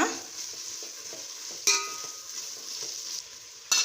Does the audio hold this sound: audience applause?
no